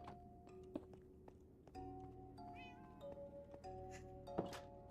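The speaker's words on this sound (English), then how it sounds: "And my cat is still here, by the way." A cat in Minecraft meows repeatedly in soft, thin, drawn-out calls over a faint steady hum, with a couple of small clicks and a brief thump between them.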